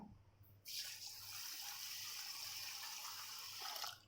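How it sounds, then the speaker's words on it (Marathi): Water pours from a tap over urad dal and rice being washed for dosa batter, a steady running-water wash from about 0.6 seconds to nearly 4 seconds, close and alone. "आता हे स्वच्छ तीन पाण्याने धुवायचं आहे"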